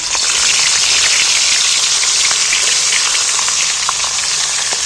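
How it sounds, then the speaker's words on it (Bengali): Fish heads, rubbed with salt, turmeric and oil, sizzle loudly in hot oil. The frying hiss is steady and close, with crackling pops scattered throughout and no voice. "এইবার আমি মুড়োগুলোকে ভেজে নেবো একটা একটা করে"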